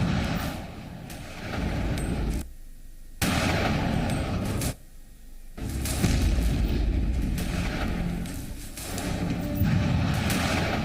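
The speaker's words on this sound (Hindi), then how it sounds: "सफल परीक्षण हुआ दोनों तोपों का लॉन्ग प्रूफ रेंज में।" Heavy artillery fire from Garud V-2 and mini ultra-lightweight guns being proof-tested at a long range in Jabalpur: loud, booming blasts with rolling rumble, separated by brief near-silent gaps, captured from a distance.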